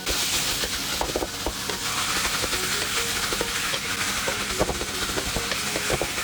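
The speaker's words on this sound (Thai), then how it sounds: "ใส่หมูสับลงไปครับใส่ลงไปได้เลยครับ" Minced pork sizzles loudly in hot oil with fragrant garlic, coriander root and pepper paste in a large pot of pork congee, under a constant frying hiss broken by repeated scraping stirs of a spatula.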